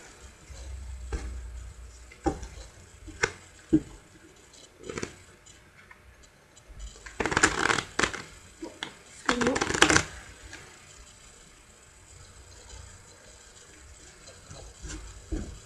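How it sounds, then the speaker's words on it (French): A standard 54-card Bicycle deck is shuffled by hand, with soft ticking card flicks early on and two louder, dense riffling bursts at about seven and nine seconds, close and otherwise fairly quiet. "les jeux complètement mélangés que je vais mélanger."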